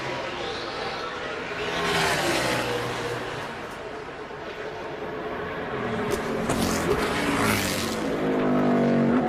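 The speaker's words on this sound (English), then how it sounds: "Only 10 minutes for this final round of qualifying as we see William Byron out there trying to put a lap down" NASCAR race car on a qualifying lap at Indianapolis, engine roar rising and falling as it passes, heard under a commentator talking and a faint crowd murmur.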